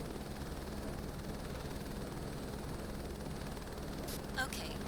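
An H125 helicopter in Microsoft Flight Simulator 2024 lifts into a hover, a steady broadband rotor and turbine drone at an even level throughout, with a few brief higher chirps near the end.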